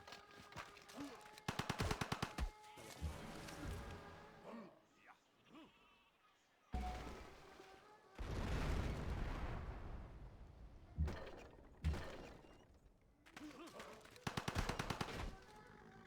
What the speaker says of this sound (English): Just Gatling gun him for some free damage.